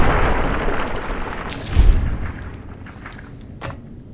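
Gunfire in Fallout: New Vegas, a single sharp, loud boom near the middle, followed by a fainter crack a moment later over a steady rumbling background.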